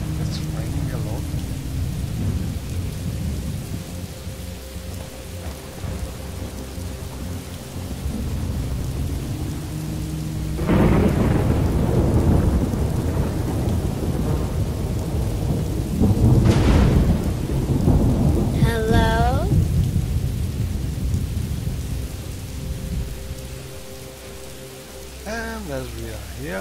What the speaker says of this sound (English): Oh yes, it's raining a lot.